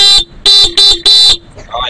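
Stock horn on a Honda ADV160 scooter tested up close: four loud, short bright honks in quick succession, then a quiet tail with faint background noise.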